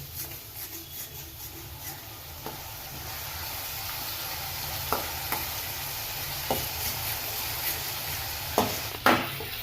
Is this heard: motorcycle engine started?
no